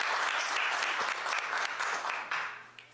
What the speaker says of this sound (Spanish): Nuevamente les pido un fuerte aplauso,